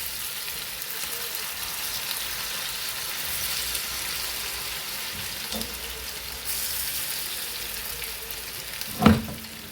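Chicken pieces for chicken chilli deep frying in hot oil, a steady broadband sizzle running throughout, with a brief louder crackle and clink near the end.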